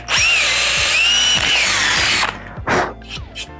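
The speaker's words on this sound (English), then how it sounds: "Because we have the punch hole already and the drill bit is so small, it just fires right through." A power drill with a small bit bores through a punched pilot hole in a freestyle scooter deck to fit a foot fender, a loud close whine for about two seconds, then short ratcheting bursts as the drill stops and restarts.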